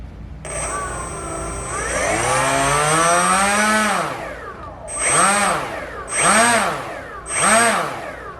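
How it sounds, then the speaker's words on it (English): A brushless motor on a small, lightweight R/C Sukhoi-27 parkjet is run up, its loud whine rising in pitch and holding, then dropping away before three shorter rising-and-falling revs close by. "next let's test the power of the brushless motor."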